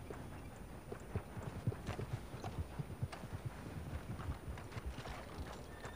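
Horse hooves clip-clopping at a steady walking rhythm in Red Dead Redemption 2, quiet and a little distant over faint wind noise.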